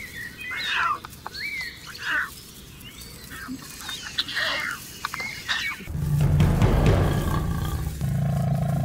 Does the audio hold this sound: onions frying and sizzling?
no